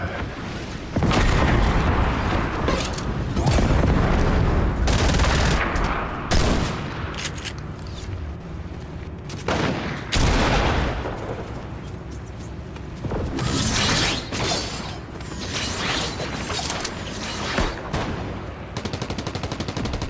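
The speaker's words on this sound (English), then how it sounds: "Oh, somebody shot me." Gunfire in the Fortnite video game: repeated loud bursts and single shots spread across the stretch, some sharp and close, others in rapid strings, with brief quieter gaps between volleys.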